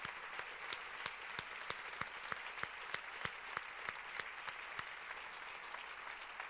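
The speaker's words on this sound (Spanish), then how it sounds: "Os pido un aplauso para Adela Castaño" An audience applauds Adela Castaño at a sector meeting on historical memory and Andalusianism in Coria del Río, a steady, fairly faint wash of clapping with sharper individual claps standing out throughout, no voices.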